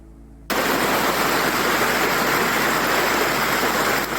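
A mountain stream and waterfall at a trail fork in the Adirondacks, New York, roar as steady, broad rushing water. The sound is close and loud, cuts in abruptly and continues unbroken with no talk.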